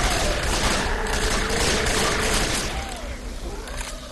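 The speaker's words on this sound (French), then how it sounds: "Je les tire." Dense, rapid gunfire from the zombie shooter video game Left 4 Dead rattles on continuously, loud and close, in a busy wash of mixed in-game noise with a voice briefly over it.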